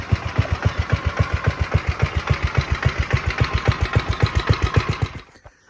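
A lawn mower engine idles steadily after refueling, a loud, close, even run of rapid low firing pulses that cuts out abruptly near the end.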